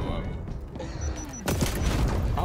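Gunfire in the video game XDefiant, a sudden loud burst of shots cutting in midway over busy game sounds, with a voice speaking underneath.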